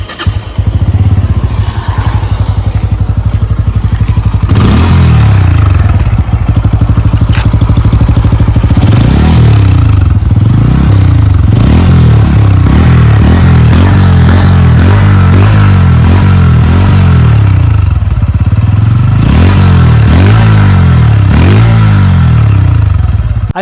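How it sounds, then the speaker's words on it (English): A Bajaj Pulsar N160 motorcycle idles with a steady, close exhaust note, then revs over and over in repeated rising throttle blips. "let's hear the exhaust note of this bike."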